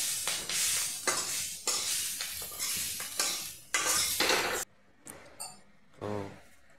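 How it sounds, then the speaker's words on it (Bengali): Cauliflower frying in a pan at a village kitchen, with loud repeated scraping stirs over a low sizzle, each stroke a burst, fading to quieter clinks near the end. "কপিটা সুন্দর করে ভাজছে আর কি"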